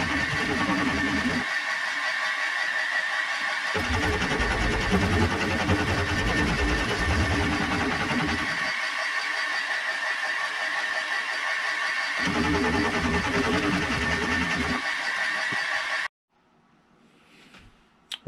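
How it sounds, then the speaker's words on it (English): A carbide insert end mill skims a hard steel T-nut on a milling machine, giving a loud, steady grinding cut with a humming motor beneath it. The cut stops and starts in passes, and everything goes quiet near the end. "I'm using a carbide insert end mill on this just because the metal is hard, horrible stuff"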